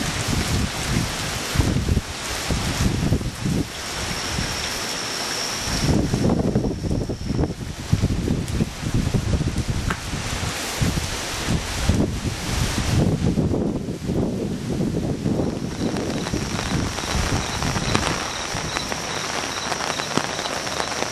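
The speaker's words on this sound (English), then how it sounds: "Comes a gust of wind" Hurricane Irene winds roar and gust outdoors in a dense, continuous rush that buffets the microphone, swelling and easing in waves, with a steady patter like rain running underneath throughout.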